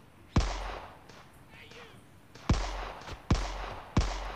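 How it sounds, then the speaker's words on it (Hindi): Gunshots from a gun in the mobile game Rope Hero Vice Town, a few sharp separate bangs at irregular intervals with a quieter gap between the first and the rest, fairly close and moderately loud. "ओके तो मैं ऐसे मार भी सकता हूँ इस गन से"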